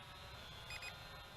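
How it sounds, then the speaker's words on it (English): A Holy Stone HS120D GPS drone gives a short cluster of faint high electronic beeps as video recording starts, heard over a steady background hiss with no talking. "it is indicated by those couple of beeps, continuous beeps"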